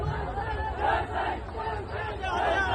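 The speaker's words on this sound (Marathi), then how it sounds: "5वा थरी त्यांचा भर पावसात या गोविंदांचा जल्लोष आहे" Govinda crowd cheering and chanting in heavy rain at a Dahi Handi human-pyramid event, a dense roar of many voices rising and falling in waves, with a commentator talking over it.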